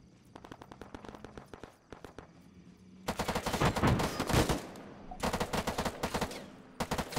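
Gunfire in ArmA 3 during a large city battle: rapid automatic bursts crackle close by, first in lighter volleys, then in dense, louder sustained streams, with short pauses between the bursts.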